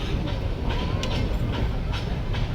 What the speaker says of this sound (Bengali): পাহাড়ের ওপরে উঠছে, সেই জন্য ট্রেনটা স্লো হয়ে গেছে